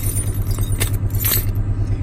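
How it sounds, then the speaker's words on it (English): A box of Ford car keys jangles in a junkyard, with a few bright metallic clinks and rattles over a low, steady engine rumble nearby. "So I've got this box right here that used to contain nothing but Ford keys."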